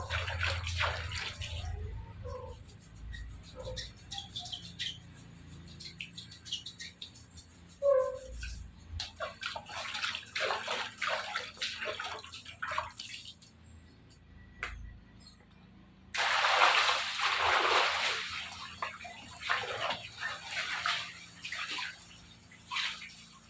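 Used laundry water poured out to wash slippers and a mop at home in a village, with intermittent bursts of splashing and gushing water, drips and pauses, then a longer heavy pour near the end.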